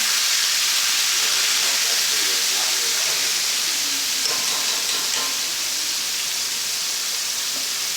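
Loud, continuous hissing sizzle of steak frying in a hot skillet, steady and close throughout with faint crackles beneath.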